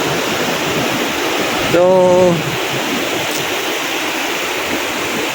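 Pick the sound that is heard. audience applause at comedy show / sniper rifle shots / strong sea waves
strong sea waves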